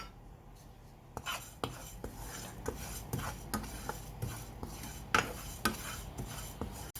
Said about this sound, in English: Now she's going to roast the sesame seeds until they come golden or brown